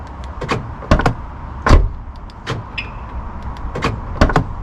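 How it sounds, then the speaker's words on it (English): A Volkswagen Golf Mk5 door with a newly replaced lock clunks as it unlocks and opens, giving several sharp mechanical clicks and thumps spaced across a few seconds, close and distinct against faint outdoor background noise. "And now unlocking the car, it opens just fine."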